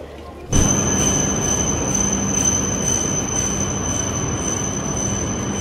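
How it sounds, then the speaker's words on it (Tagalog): A bullet train passes close by with a sudden loud onset, then a sustained roar with high squealing wheel tones that holds steady to the end. "Bullet train!"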